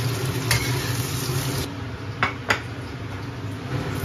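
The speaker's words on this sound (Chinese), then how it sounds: "剩下的底油来煎一下那个鱼，放点姜丝在锅里" Fish fries in leftover oil with shredded ginger in a pan, giving a steady loud sizzle and hiss with a few sharp clinks and scrapes of a utensil against the pan.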